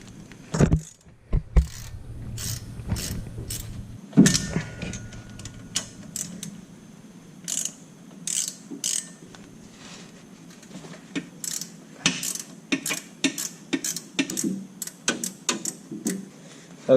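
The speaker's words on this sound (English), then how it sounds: "all we have to do is come over here to the diff and take off these 4 bolts" A ratchet wrench loosens 14 mm driveshaft bolts at the differential of a Mazda Miata, giving a series of close, quick metallic clicks and clanks in irregular bursts, with no talking.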